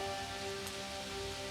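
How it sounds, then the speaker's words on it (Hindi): Cartoon magic rain falls on a river as a steady, dense hiss of drops that holds without a break, with faint sustained tones running beneath it. "उस जादुई बादल ने फिर से जादुई वर्षा कर दी उस नदी पर।"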